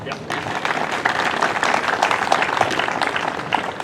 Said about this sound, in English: Ron, a nice round of applause.